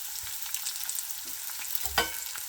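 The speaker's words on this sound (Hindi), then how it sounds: "इसको ऐसे थोड़ा थोड़ा करके फ्राई करना है" Gond, an edible gum, fries little by little in a pan with a soft, steady sizzle and a few brief pops and crackles, fairly quiet, with no voices.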